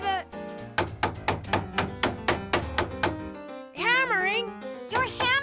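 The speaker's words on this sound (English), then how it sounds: "Your hammering is scaring away the animals." Cartoon hammering from Max and Ruby: about a dozen quick, evenly spaced knocking strikes over a light musical bed, then a brief cartoon voice and a couple more knocks.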